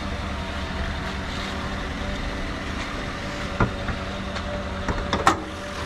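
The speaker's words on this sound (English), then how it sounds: "It sounds like a normal truck," A tuned 2020 Chevrolet Colorado pickup with a V8 engine runs at a steady idle, giving an even, droning hum with a few faint clicks and knocks, and no voices.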